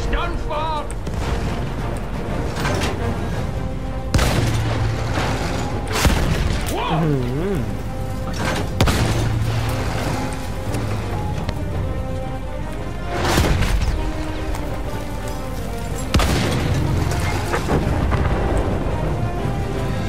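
Explosions destroying tanks in a video game, with heavy booms and blasts over continuous battle noise and rumble, and someone talking over much of it.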